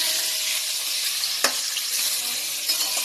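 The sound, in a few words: potatoes for meat curry frying in a pan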